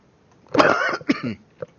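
A single close, harsh cough with a short follow-up burst, then a brief catch of breath, in an otherwise quiet room.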